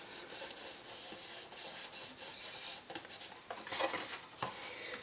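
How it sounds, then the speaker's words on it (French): A bone folder presses along the inside of a freshly glued cardboard box, giving continuous close rubbing and scraping strokes with short bursts of firmer pressure, heard alone. "Nous n'hésitons pas à appuyer à l'intérieur de notre boîte à l'aide de notre plioir en os"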